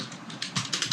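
Someone taps out a command on a computer keyboard: a quick run of about half a dozen crisp, close keystrokes at an uneven pace.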